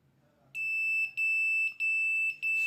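An Arduino-controlled smart water heater's buzzer alarm sounds: a piercing, high electronic tone that starts abruptly and repeats in about four long beeps with brief dropouts between them.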